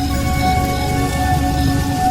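Heavy rain falls steadily and evenly throughout, a dense continuous wash under what sounds like a rainstorm near a stalled rickshaw, with no voices.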